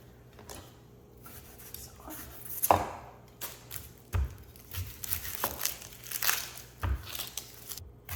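A knife slices onions into thick rounds on a cutting board, with scattered soft thuds and crisp cuts at an uneven pace, close and fairly quiet, heard alone.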